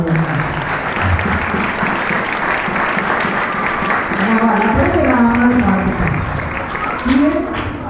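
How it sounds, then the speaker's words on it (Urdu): Church congregation at an FGA service clapping for Jesus, a steady wash of hands throughout with a voice speaking over it and some singing or chanting rising in the second half. "ذرا یسوع واسطے تالیاں بجاؤ"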